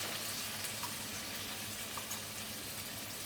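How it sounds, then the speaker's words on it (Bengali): Ground cumin, turmeric, coriander and chilli powder fry in a pan for dal khichdi, a faint, steady low sizzle with light stirring scrapes. "মশলাটা ভালো করে কষিয়ে নিব।"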